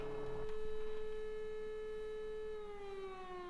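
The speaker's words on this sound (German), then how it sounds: "die Sirene geht" A steady, tonal siren sounds in Farming Simulator 15, holding one pitch and then sliding slowly downward near the end, fairly faint and alone without talk.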